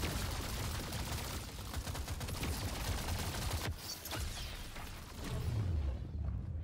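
Rapid, dense carbine fire from Deep Rock Galactic Survivor, a continuous loud stream of shots with a brief dip before resuming, layered with game effects and low rumble.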